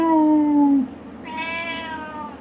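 A pet cat gives a long, loud meow up close, followed by a quieter, higher second meow, with no other sound around it.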